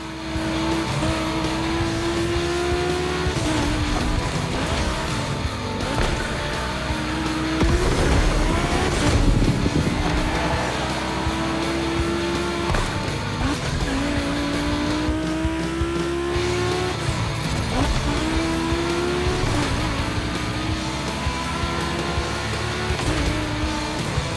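Volkswagen cars racing on a track in The Crew Motorfest: loud engines drone and rise in pitch through repeated gear shifts, with tire noise and the occasional thud of contact, continuous and close throughout.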